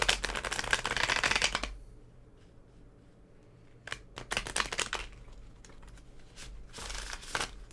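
Tarot cards are shuffled close up in crisp riffling bursts, a long run at the start, then a quiet pause, then several short flurries and a final burst, with no talk.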